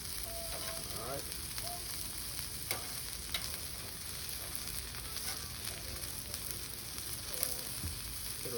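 Potatoes frying on a flat-top griddle, a continuous soft sizzle and crackle with occasional stirring scrapes, close and even, no talking.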